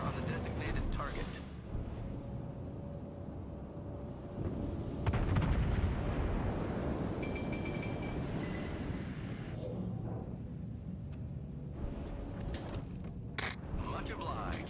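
Heavy battleship gunfire from the Mutsu in World of Warships, a broad booming burst around the middle over continuous rumbling battle noise, with a voice giving radio-style commands throughout.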